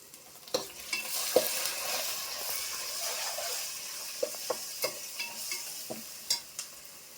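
Ginger-garlic paste and green chilies sizzle and fry in a pan while a spoon stirs them, a steady hiss punctuated by sharp scraping clicks and knocks at irregular intervals, close and clear with no talking.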